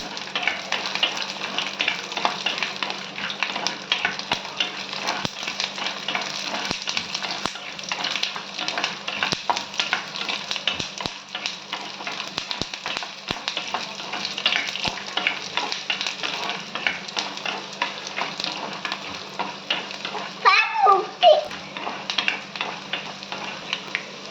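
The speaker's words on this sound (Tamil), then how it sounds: "இப்போ பூண்டை போட்டுருங்க நல்லா வறுத்துக்குங்க" Garlic cloves fry steadily in oil in a pan for garlic chutney, a continuous close sizzle with soft stirring scrapes throughout and a brief louder clatter near the end.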